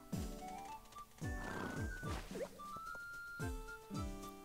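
Several loud, shrill horse whinnies and snorts from the video game Miitopia repeat one after another at close range, with no talking over them.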